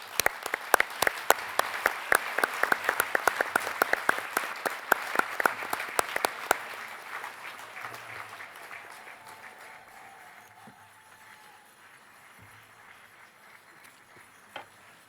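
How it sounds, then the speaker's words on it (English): A congress hall audience at a union congress breaks into loud, dense applause that carries on for about six seconds, then thins out to scattered claps and fades into quiet room noise. "show your appreciation by applause"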